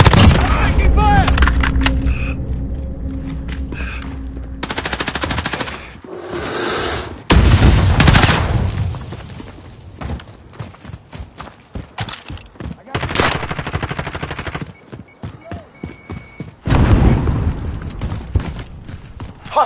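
Gunfire in Call of Duty Modern Warfare: loud bursts of automatic fire and single shots come in clusters with brief pauses, mixed with explosions and in-game radio voices calling out.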